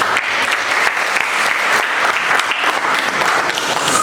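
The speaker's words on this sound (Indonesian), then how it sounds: "Beri aplaus dulu." A classroom of students and teachers breaks into loud, dense applause, many hands clapping together in a continuous, even roar that holds steady for several seconds.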